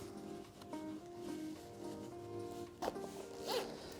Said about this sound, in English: pull the zipper the whole way around